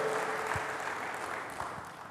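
Congregation clapping in a church during a sermon, a soft, even patter of many hands heard from some distance, steady throughout.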